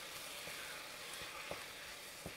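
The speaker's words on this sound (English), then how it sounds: "You want that frying sound." Eggs and rice frying in a hot wok for stir-fried rice with chicken and vegetables, a faint steady sizzle broken by a few soft scraping stirs.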